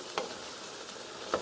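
Bitter melon of a tougher-than-usual kind fries in a pan with a steady, soft sizzle, broken by two brief louder stirring scrapes at the start and near the end.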